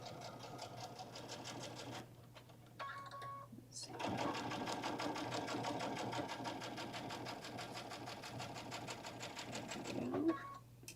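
A sewing machine back stitches a bag seam in a steady mechanical whir, starting and stopping in short bursts before a longer run, close up and fairly quiet.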